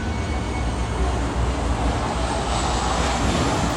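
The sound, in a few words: airplane passing overhead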